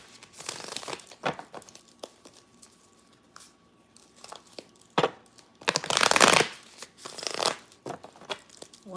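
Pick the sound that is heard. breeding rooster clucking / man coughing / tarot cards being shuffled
tarot cards being shuffled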